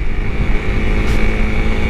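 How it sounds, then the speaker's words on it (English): A Honda CRF300L supermoto motorcycle cruising down a street, its engine a steady close drone mixed with wind rush past the microphone, with no talking. "Cruising down the block in my 300L Sumo."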